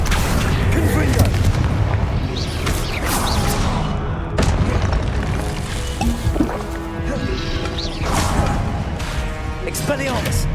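Explosive fire spell blasts in the video game Hogwarts Legacy, repeated booms and crackling bursts among a loud, busy combat mix, with voices calling out spells.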